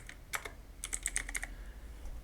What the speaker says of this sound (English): after that type here task manager